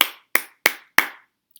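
Hands clap four crisp, evenly timed beats, sounding out the syllables of an animal's name, close-up with no talking, then a faint tap just after.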